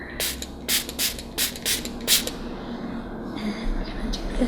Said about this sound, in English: this used to be a room spray that had Iowa pine scent, but now it's just a water bottle